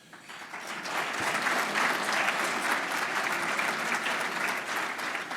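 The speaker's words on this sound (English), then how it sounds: "we're going to clap for you" Guests at a formal Texas Supreme Court Historical Society dinner break into sustained applause, a dense, steady wash of many hands clapping that swells after a moment and holds without pause, with no voices on top.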